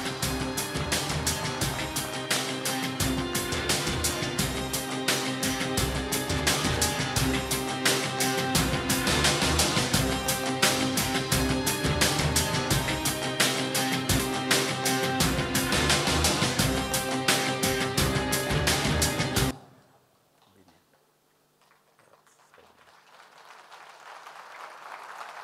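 Audience at a DXN Qatar awards ceremony applauding a Triple Diamond achiever, a loud, dense wash of clapping for about twenty seconds that stops abruptly, followed by quiet room noise.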